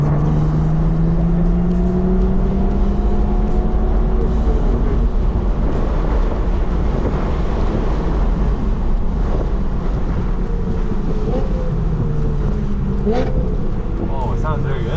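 A BMW V8 race car accelerating on a race track, a loud steady engine drone with rising pitch sweeps, heard from inside over constant roar while people talk.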